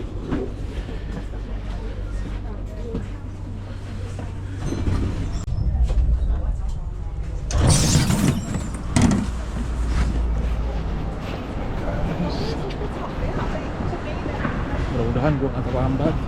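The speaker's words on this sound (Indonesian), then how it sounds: "Kayak begini tramnya." Tram ride in Victoria, Australia, with steady low rumble and rolling rail noise throughout, occasional louder clunks and rattles, and people talking over the running tram.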